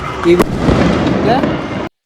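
A firecracker bomb goes off during Sankranti festivities in Warangal, a sharp loud bang followed by a dense, crackling roar of noise that lasts about a second and a half before cutting out, with voices mixed in.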